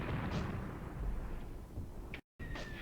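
Mortar rounds land in Graviteam Tactics, dull distant thuds rolling over a low background rumble, with a couple of sharper reports near the end.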